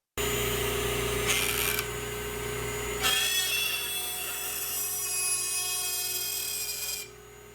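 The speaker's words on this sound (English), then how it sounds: "I'll do that on the router table with this 3/16 inch straight bit" A router table fitted with a 3/16 inch straight bit cuts a slot into a wooden scrap piece, giving a steady, loud high whine that shifts in pitch as the cut proceeds before stopping near the end.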